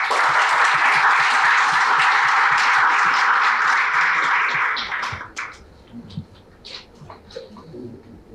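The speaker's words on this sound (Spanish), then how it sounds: "Por favor, démosle la bienvenida con un fuerte aplauso." A crowd's loud applause welcomes a speaker at an academic event on the Malvinas Islands. Dense clapping sustains for about five seconds, then breaks off into a few scattered claps and faint room noise.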